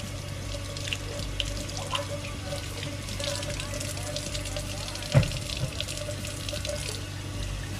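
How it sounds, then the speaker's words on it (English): Warm tap water running into a sink to rinse a high-flow air intake filter from an Indian motorcycle, a steady splashing stream with a few small clunks, while someone talks. "Take some warm water and try and rinse all the stuff out."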